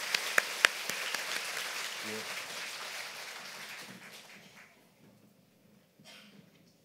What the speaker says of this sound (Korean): 우리 다시 한번 인사하고 들어가실 때 큰 박수로 격려해 주시면 감사하겠습니다